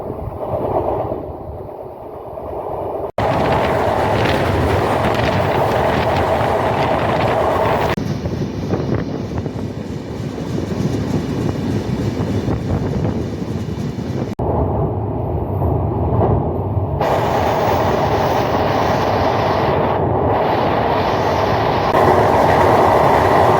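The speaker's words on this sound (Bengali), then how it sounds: "ঢাকা রেল স্টেশনে এসে পৌঁছালো খুলনা থেকে ছেড়ে আসা নকশিখা" A Khulna passenger express pulls into Dhaka's Kamalapur railway station with a loud, continuous rumble of wagons and rhythmic wheel clatter that shifts in tone as the carriages roll past close by.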